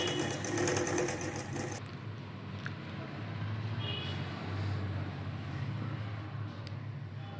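Sewing machine stitching along a folded fabric belt piece for a baby's lehenga, a close, steady mechanical whir with a rapid needle rattle that runs throughout, louder at the start, without speech.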